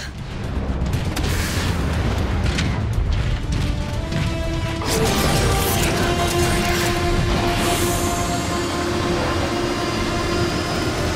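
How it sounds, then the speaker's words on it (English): Loud, rumbling blasts and crashing booms from the Decepticon warp cannon firing in Transformers: Fall of Cybertron, with a sustained heavy roar and ringing tones building toward the end. "The Decepticon warp cannon!"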